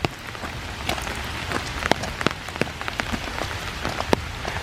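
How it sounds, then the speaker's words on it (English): Heavy rain pouring on a muddy trail in a park, a dense continuous hiss of raindrops with scattered sharp nearby drips and splats, steady and close with no other sounds. "It's pouring down now."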